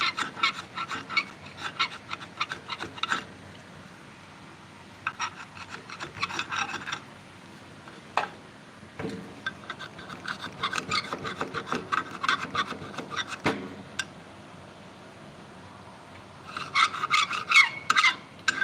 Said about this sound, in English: Now again, this is a tungsten carbide scraper. See how easy that is?